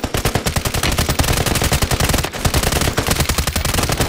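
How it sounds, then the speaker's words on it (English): Rapid automatic gunfire in the Call of Duty video game, a dense, loud, steady stream of shots with one brief pause partway through, close and unbroken by talk. "Oh, I'm getting shot at."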